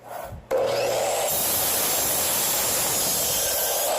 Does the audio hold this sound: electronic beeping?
no